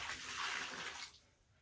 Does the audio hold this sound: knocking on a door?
no